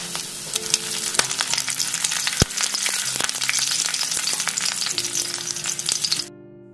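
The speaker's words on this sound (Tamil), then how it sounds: "இப்போ லோ ஃப்ளேம்ல வச்சிட்டு இப்போ கருவேப்பிலையை ஆட் பண்ணிடலாம்." Curry leaves, mustard seeds and cumin fry in oil over a low flame for a spicy carrot fry, crackling busily with dense popping and spattering, then cutting off abruptly near the end.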